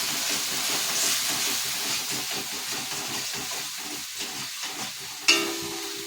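Vegetable curry frying with turmeric and salt in a pan, a steady close sizzle and hiss with soft stirring scrapes, and a sharp clatter near the end.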